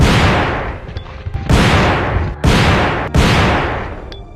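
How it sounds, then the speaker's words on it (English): Three loud, booming shotgun blasts from the original Resident Evil 2 video game, evenly spaced about a second apart, each with a long decaying tail. "And this is the original shotgun."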